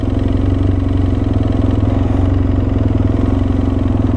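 A BMW F800 ST motorcycle engine idles steadily at close range, a low rhythmic thrum with mechanical clatter, running continuously without voices; the bike is low on fuel.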